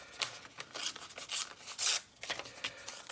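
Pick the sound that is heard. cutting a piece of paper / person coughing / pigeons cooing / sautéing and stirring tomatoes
cutting a piece of paper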